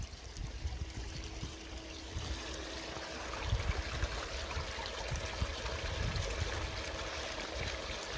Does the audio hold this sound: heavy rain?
no